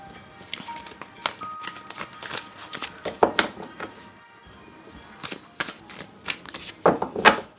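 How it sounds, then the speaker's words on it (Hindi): Tarot cards being shuffled by hand: a run of crisp riffling and flicking bursts, close and fairly loud, in irregular clusters with short pauses, no talk over them. "सो मैं शफल कर देती हूँ वापस"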